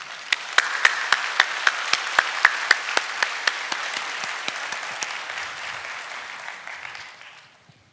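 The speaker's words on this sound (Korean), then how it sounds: "우리 나오실 때 우리 박수로 맞이해 주시기를 바랍니다" Korean church congregation applauding in welcome as a church member comes forward to share a testimony, a clear run of regular handclaps blending into steady applause that fades out near the end, with no voices.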